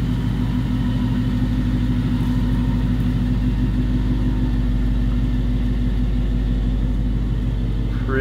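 A 2018-2020 Ford Mustang GT with MagneRide suspension and a front splitter idles and creeps up a sloped driveway, its V8 engine a loud, steady low rumble close by with an even throbbing pulse throughout.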